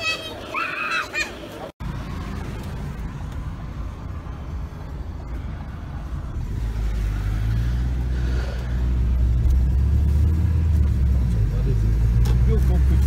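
Interior of a car driving away after a Mansfield Town versus Rotherham United football match, a steady low road rumble building and growing louder after the first few seconds, with a sharp bump early on and people talking faintly inside.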